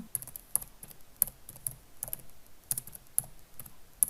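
Typing on a computer keyboard, close crisp keystrokes in an irregular patter with a few sharper taps, no voices.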